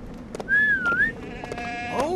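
A goat in a Lego video game gives a couple of clear, wavering bleats, with a few short clicks and game noises around them.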